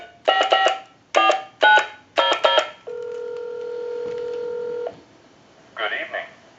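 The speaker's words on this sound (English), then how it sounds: "So I'll turn on the amplifier, and we'll give you some dial tone" A Western Electric Trimline telephone being repaired plays several short bursts of touch-tone dialing beeps, then a steady dial tone of about two seconds, then one more brief tone burst, all loud and clear with no talk.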